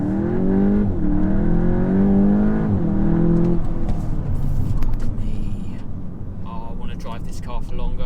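Volkswagen Golf 8 GTI Clubsport engine pulling hard under full throttle on the road, a steady close drone rising in pitch over several seconds, with someone talking over it throughout.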